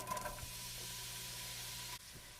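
Diced carrot, celery and onion sizzle in a pot of olive oil, a steady close hiss with a few stirring clatters early on and a brief break near the end.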